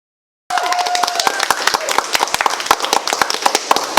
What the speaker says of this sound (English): let's have a round of applause for those who are shortlisted